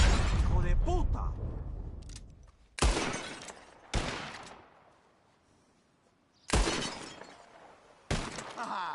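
Glass bottles burst apart under gunshots in a shooting contest, four sharp separate shattering cracks spaced a second or two apart, each trailing off in tinkling shards, with a voice talking at the start.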